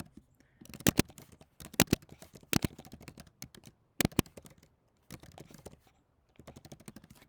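A project name typed on a computer keyboard, close crisp key clicks in quick bursts separated by short pauses, with louder thumps like the space or enter key.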